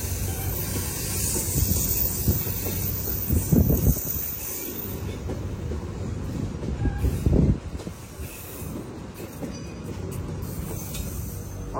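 Jayabaya executive-class passenger train running on the Malang to Jember line, a steady loud rumble of wheels and wagons with hissing, swelling in two louder passes, no voices.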